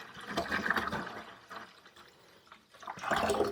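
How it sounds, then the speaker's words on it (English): Grape juice pours steadily into a bucket for a three-gallon batch of rose petal wine. The liquid splashes and gurgles nearby, eases off briefly, then surges again. "Get it in there. 1 gallon grape juice for this 3-gallon batch."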